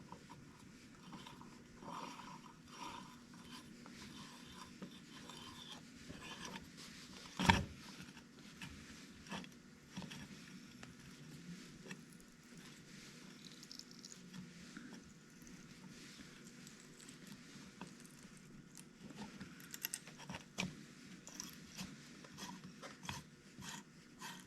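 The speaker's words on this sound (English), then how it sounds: "Just really don't want to break off my cheapy Amazon special tap here." A cheap threading tap is turned by hand into a hole, making faint, intermittent creaking and ratchety scraping with one sharper click partway through.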